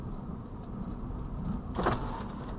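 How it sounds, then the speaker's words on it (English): Car power windows being lowered inside a hot vehicle, a short whirring motor burst near the end standing out over steady cabin and road noise. "I gotta put the windows down"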